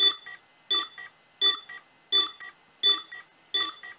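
Repeated paired electronic beeps from a FIMI X8 SE drone during a firmware update, close and sharp, in a regular double-chirp rhythm about every 0.7 seconds, with silence in between.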